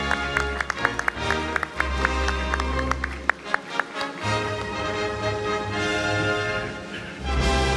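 Scattered applause with sharp claps over lively background music, fairly close and moderately loud.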